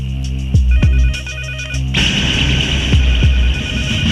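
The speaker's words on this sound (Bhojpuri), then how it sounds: "अरे फोन उठाओ। इतना रात के गुंडन के फोन आवेला, कोई फोन ना उठी।" A telephone rings repeatedly at night, a loud electronic ringtone pattern with swooping tones, continuing through a change in background texture with steady hum underneath.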